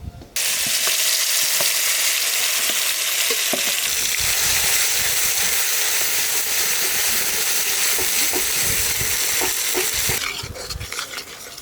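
Ground spice paste hits hot oil with cardamom, cloves and cinnamon for shahi paneer, a loud continuous frying hiss with steady spatula scrapes and stirring clatter close by.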